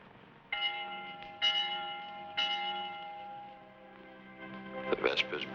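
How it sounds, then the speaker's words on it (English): A vespers church bell tolls in slow, resonant strokes with long humming decays, three clear strikes followed by a brighter cluster of rings, heard alone without talk. "The Vespers bell."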